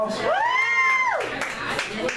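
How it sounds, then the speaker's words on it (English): Comedy club audience breaking into applause and cheering, with a loud rising whoop at the start followed by dense clapping and crowd noise, mixed with voices. "round of applause"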